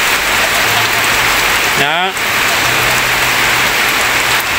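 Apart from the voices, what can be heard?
rain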